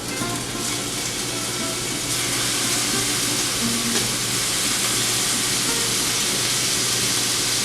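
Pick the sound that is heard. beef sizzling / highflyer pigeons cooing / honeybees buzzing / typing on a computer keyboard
beef sizzling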